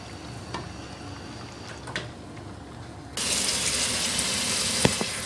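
Cooked spaghetti is rinsed under a kitchen tap. Quiet handling noises come first, then running water bursts on partway through and continues as a steady, close hiss.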